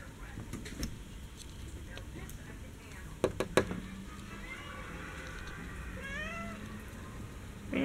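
Several cats meow outdoors, a few short cries in the second half, with a couple of sharp clicks and quiet background noise.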